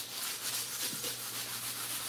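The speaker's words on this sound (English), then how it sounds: "I'm gonna take a sanding block." A sanding block rubs over a painted wooden cabinet, giving a steady, close scraping hiss that holds level without pause, with a low hum beneath and no talking.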